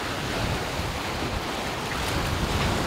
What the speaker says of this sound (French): Le vent a pas mal forci, il y a 20 nœuds bien établis, des rafales à 30 nœuds.